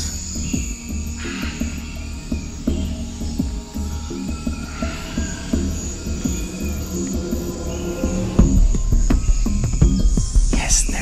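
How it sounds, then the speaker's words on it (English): Dense South American rainforest ambience of steady insect chirring and buzzing, with occasional distant bird calls scattered throughout and no talking. "We are stopping here to listen sound of the forest and identify the animals."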